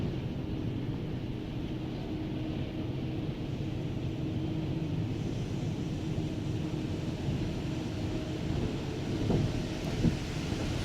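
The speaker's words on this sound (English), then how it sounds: "So they're starting right out with a bit of a kind of a rinse or a wet down" At the Pioneer Car Wash on Queenston Road in Hamilton, Ontario, rinse water sprays onto a car as a steady, dense rushing wash with a low rumbling undertone, continuous throughout and without voices.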